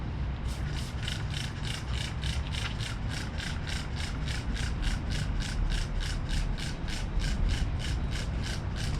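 An algae stain is scrubbed after Super Clean cleaner is applied, a brush driven in fast, even back-and-forth strokes that make a loud, close rhythmic rasping, steady for the whole stretch with no talk.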